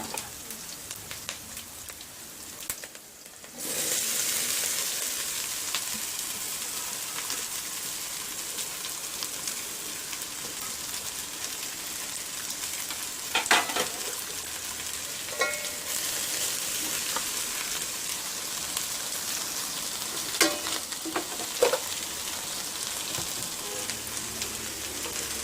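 Cut okra fries with onion in a hot pan, a loud, steady close sizzle that swells after a brief dip and carries occasional stirring scrapes throughout.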